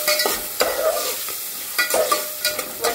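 Asafoetida, curry leaves, peas and green chilli fry in a pan in a rapid crackling sizzle, broken by several short stirring scrapes near the start, middle and end, close and loud with no talk.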